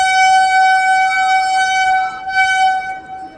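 A loud, sustained horn from the Dhauli Express blares continuously for several seconds as the train prepares to depart, holding a steady tone before easing slightly toward the end.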